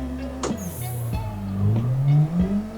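In the Assetto Corsa racing game, a car drifts as the throttle is lifted and reapplied, engine tone falling and then climbing again, with a few sharp transient clicks over the close, moderately loud engine note.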